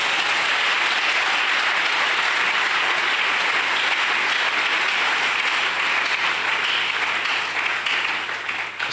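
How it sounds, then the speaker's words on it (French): A church congregation applauds the Lord with steady, dense clapping from a large crowd, sustained and loud for the whole stretch before tapering slightly at the end. "Est-ce qu'on peut acclamer le Seigneur?"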